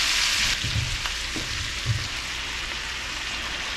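Shredded cabbage frying in melted butter in a pan, a steady broad sizzle with a few soft stirring knocks, close up and without voices.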